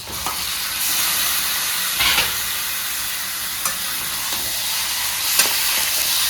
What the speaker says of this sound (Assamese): আমি এই কাটি ৰখা চিকেনখিনি ইয়াতে ধুনীয়াকৈ দি দিম